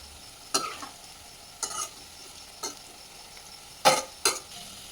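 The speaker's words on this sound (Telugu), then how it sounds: "కాకరకాయ బాగా వేగిపోయింది ఫ్రెండ్స్" Bitter gourd frying in a pan: five sharp, scattered spatula scrapes and stirs over a faint, low background sizzle, with no talking.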